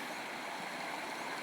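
Cool spring-fed water of the Dumalon River in Tulungtong, Zamboanga City, rushing in a steady, faint, unbroken hiss.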